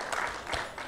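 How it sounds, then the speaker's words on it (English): Applause for the mayor at a recreation center ribbon cutting ceremony: a brief, dense burst of clapping from a crowd, steady and fairly loud. "So let's give him another round of applause."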